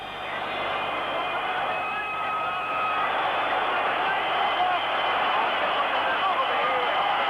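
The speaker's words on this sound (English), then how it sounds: "The crowd is going quite frantic, but the game isn't over." Football stadium crowd roaring frantically near the end of a match, a dense, sustained wall of cheering and shouting that holds loud and steady throughout with no break.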